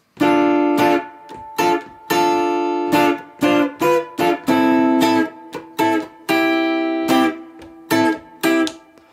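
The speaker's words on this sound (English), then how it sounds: "then we get to the verse riff, which sounds like this." Guitar plays the verse riff of a song, loud close strummed chords in a choppy down-down-up-up pattern with short muted gaps between hits, no voice present.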